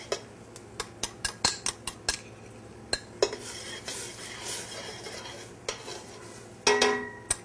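Roasted garlic paste being stirred into a pan of simmering oil, with a run of sharp utensil clicks against the pan over a low steady sizzle, louder scraping near the end.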